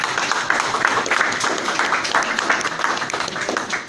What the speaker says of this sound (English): A round of applause for all of our candidates